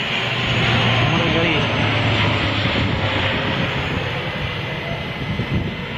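A propeller plane flies overhead, a steady droning engine hum with a low tone, fairly loud and sustained, mixed with wind noise and some talk.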